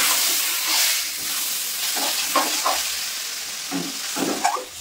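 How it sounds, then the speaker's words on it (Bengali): Spices being stirred and mixed into a homemade sweet, sour and spicy olive pickle, giving a steady soft hiss with several scraping, stirring strokes that come in bursts, close by and with nobody talking. "এখন আমি পুরো মশলাটা দিয়ে দেবো, দিয়ে মিশিয়ে নেবো খুব সুন্দর করে।"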